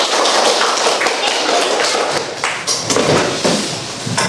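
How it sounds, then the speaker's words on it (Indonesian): Students in a classroom clap their hands together in a dense, steady burst of many overlapping claps, close and loud, with voices mixed in throughout. "Tepuk tangan untuk kita semua."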